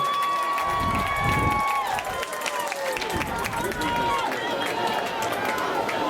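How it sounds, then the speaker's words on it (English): A high-school football crowd at Peabody versus Union City roars after a big play, with a steady, loud wash of cheering, whoops and scattered shouts that continues throughout. "And listen to this crowd."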